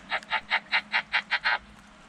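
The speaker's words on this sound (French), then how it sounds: "C'est un crapaud ça?" A toad calls at night, a close run of about eight evenly spaced croaking pulses in quick rhythm, followed by quiet.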